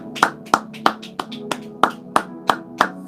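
Rhythmic handclapping from a church congregation during a service, about ten sharp claps in a steady beat of roughly three per second, close and clear with no talking.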